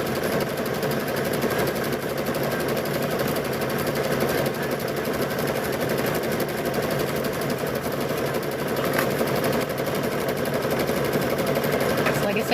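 A sewing machine stitches quilt binding along a fabric edge without a pedal, a loud continuous rapid mechanical chatter that runs unbroken from start to finish.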